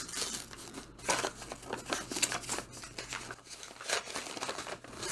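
Layers of brown paper wrapping on a book-club parcel are peeled and unwrapped nearby, giving repeated close crinkling and tearing rustles in irregular bursts with brief pauses, and no speech.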